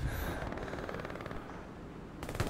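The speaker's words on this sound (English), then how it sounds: "that was a machine gunner." Rapid machine gun fire in the World War II shooter Hell Let Loose on the Eastern Front, a dense, fast burst of shots that runs through most of the moment, fairly loud and close.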